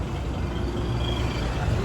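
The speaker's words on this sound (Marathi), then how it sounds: "मोठे ट्रक आहे पाठीमागे" A big truck rumbles close behind on a road during a walking pilgrimage to Shirdi, a constant low engine drone with a thin hiss on top that stays steady throughout.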